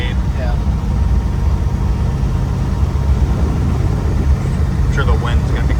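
A car engine with Holley Sniper fuel injection and a slight misfire runs with a low, steady rumble close by, while people talk over it.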